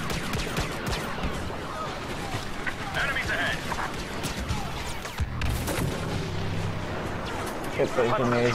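Gunfire and a grenade blast from a Star Wars Battlefront match on Jakku, with dense, continuous battle noise and layered shots throughout, a heavier boom near the middle, and a player talking over the action.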